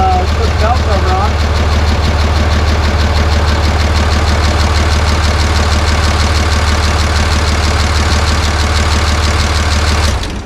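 A 2005–2007 Cummins diesel idles after injector replacement, a loud, steady low rumble with an even clatter that runs unbroken until it cuts off at the end.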